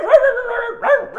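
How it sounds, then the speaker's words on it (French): A dog yelps and barks close by, two sharp, whining barks about a second apart, loud and alone. "Il y a un chien qui gueule. Un chien anglais."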